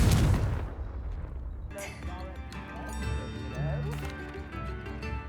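Confringo blasting spell cast in Hogwarts Legacy, a sharp burst followed by crackling magical impacts and a second bright blast, with game score humming underneath.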